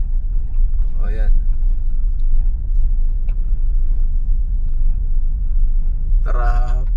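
Road traffic of cars and tricycles on a busy road toward a river on a holiday, a steady low rumble of passing engines, with people talking in short bursts over it.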